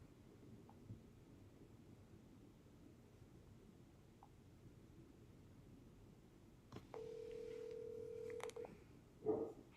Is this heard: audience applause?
no